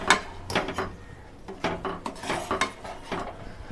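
A spoon scrapes and clinks against a pan while melted jaggery mixture for sojja bakshalu is stirred on low heat, giving irregular knocks and scraping strokes, close and moderately loud, with no talking.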